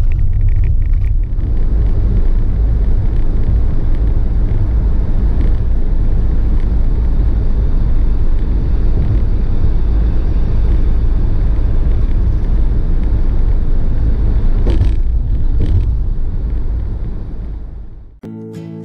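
Steady, loud road rumble and engine drone fill the cabin of a car heading toward Quartzsite, Arizona, a continuous low roar that fades near the end.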